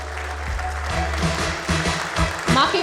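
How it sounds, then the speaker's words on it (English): Audience clapping during a cake-cutting celebration at an MGT customer meet in Pune marking 50 years: steady, dense crowd applause continues throughout under a person talking. "I want everyone to keep up those claps really louder"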